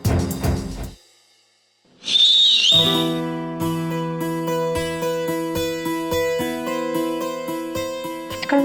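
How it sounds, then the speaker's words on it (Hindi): A sharp, rising whistle tone cuts in briefly after a short silence, then gives way to a steady musical score of sustained chords. "मेरे कानों में सीटियां क्यों सुनाई पड़ती है बार बार?"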